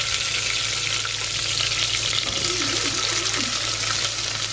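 Fenugreek, fennel, asafoetida, garlic, chili and curry leaves fry in a pan with an intense, unbroken crackling sizzle close up.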